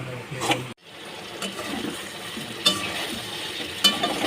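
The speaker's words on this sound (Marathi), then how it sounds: "याला चांगल्यापैकी आपण असं परतून घ्यायचं आहे." Homemade wheat pasta pieces being sautéed in a pan, giving a soft frying hiss broken by a brief pause and occasional scrapes and clinks of a spatula.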